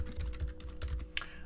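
Fast, light clicks come from a computer keyboard as a folder name is typed in Microsoft Outlook, close up and steady for a short burst.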